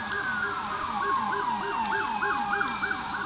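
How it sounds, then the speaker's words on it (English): Wailing sirens rise and fall in repeated sweeping cycles, steady and fairly loud, with a second siren tone layered over the first. "These sirens have been going off for the past 15 to 20 minutes."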